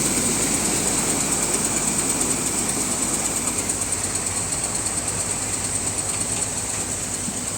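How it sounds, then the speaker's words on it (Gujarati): A Sonalika 745 tractor engine runs steadily nearby, driving a wheat thresher, with a constant droning rumble and a fast rhythmic clatter, unchanging throughout. "ટ્રેક્ટર કેવું છે સોનાલિકા સાતસો પિસ્તાલીસ ટ્રેક્ટર છે"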